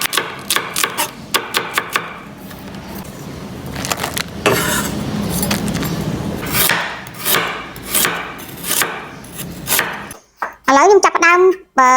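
Knife slicing ginger into long thin strips on a chopping board, a steady run of close, crisp cuts, with a short burst of higher-pitched sound near the end.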